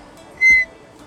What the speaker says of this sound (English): So this is a bone whistle that is one of the earliest musical instruments in human history.